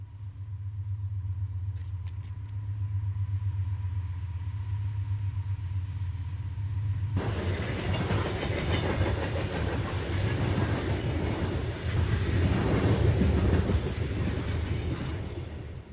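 CSX freight train R135 rolls westbound past Woodmont Farm Road, a loud, steady near rumble of railcars with clattering wheels that bursts in suddenly after a low idling drone and holds throughout.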